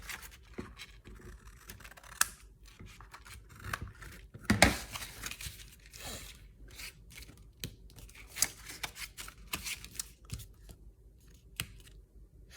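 Paper sheet for a handmade junk-journal mini album being trimmed with scissors, close and fairly quiet, with repeated short snips and rustling scrapes spread across the stretch, one louder cut near the middle.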